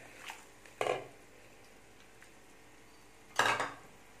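A spoon scraping and clanking in a pan as ground coconut is stirred into brinjal gravy, two distinct short metallic stirs separated by quiet.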